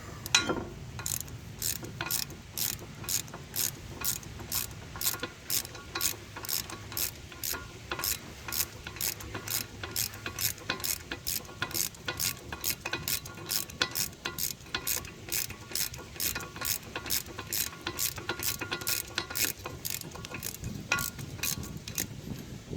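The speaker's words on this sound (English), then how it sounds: "we're going to go ahead and tighten these 19s up here" A ratchet clicks steadily and rapidly while tightening 19 mm bolts on a 2.0 L engine in a Suzuki Forenza during an engine and transmission replacement, close and loud with continuous even strokes and no talking.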